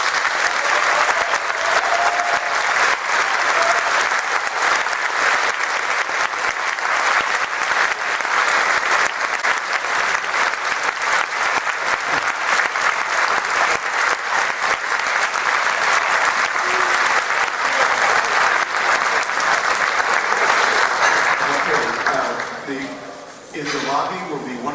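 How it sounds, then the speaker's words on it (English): An audience at an MIT debate on fossil fuel divestment applauds the panelists, a dense and loud wash of clapping that holds steady for over twenty seconds, then thins near the end as voices emerge. "this is now time for the audience to hoot and cheer and thank these wonderful"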